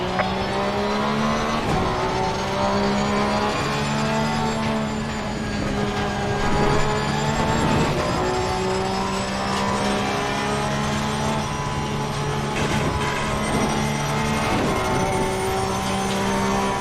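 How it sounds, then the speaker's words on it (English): GT race cars in Assetto Corsa Competizione, with several engines droning and revving close by while faster cars approach and pass, their pitches shifting over a continuous racing roar. "Faster cars approaching."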